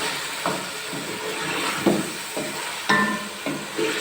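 Whole spices such as bay leaf, garam masala, nutmeg, mace, cloves and black peppercorns frying in hot oil for carrot pulao, a steady close sizzle broken by several soft knocks of stirring, no talk.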